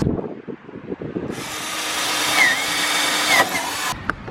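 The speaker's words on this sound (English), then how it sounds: "all you got to do is keep the drill on and then kind of move in a circle" A power drill starts up and whirs loudly and steadily for a few seconds while enlarging a hole for a roof vent, its pitch wavering as it grinds, then stops.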